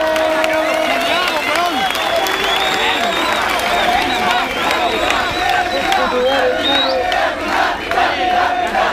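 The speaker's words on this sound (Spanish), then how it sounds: "Quiero un aplauso fuerte por esta batalla" A crowd at a rap battle cheers, shouts and applauds continuously, a loud, dense roar with voices calling out throughout.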